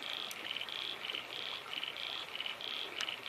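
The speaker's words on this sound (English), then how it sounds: "hearing the crackle of the fire and the frogs croaking" Frogs croaking beside a river at night while camping near a campfire, a steady high pulsing chorus of regular rhythmic calls that carries on without pause, close and fairly loud.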